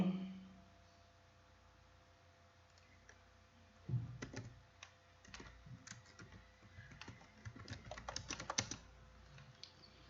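Typing on a computer keyboard during a remote science lesson, a quiet start giving way to steady clusters of close, light key clicks with irregular rhythm, no talking.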